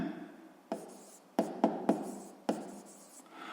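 Writing the expression x plus 7 for a sixth-grade math exercise produces a handful of crisp pen or chalk taps and short scratchy strokes, spaced irregularly and close up, with no voice.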